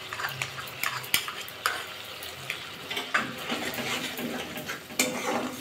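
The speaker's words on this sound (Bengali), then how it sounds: "পোস্ত দিয়ে 2-1 মিনিট একটু কষিয়ে নেব মশলা দিয়ে।" Poppy seed and green chilli paste stir-fried with spices in a pan, a low sizzle broken by frequent sharp scrapes and taps of a spoon against the pan.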